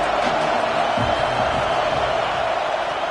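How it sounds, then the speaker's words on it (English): A big football crowd at a Happy Valley stadium roars steadily on third down, a dense, loud wall of cheering and noise heard from within the stands that holds constant throughout. "Here comes the noise from this big crowd in Happy Valley on 3rd down."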